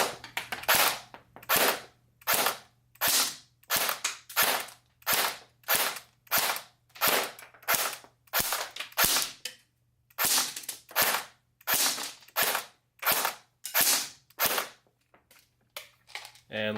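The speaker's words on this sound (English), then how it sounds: "Let's go ahead and take it to the chrono here and see how it's shooting." A Cyma AK Beta Spetsnaz airsoft rifle on a 7.4 volt battery shooting 0.2 g BBs through a chronograph, about eighteen sharp semi-auto cracks at a steady pace of roughly one per second, loud and close.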